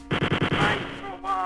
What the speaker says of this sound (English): Switch to the machine gun as I peek around this corner.